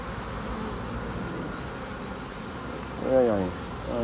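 Honeybees buzz around an opened hive during a colony inspection, a steady low drone with a louder, closer pass of a single bee near the end.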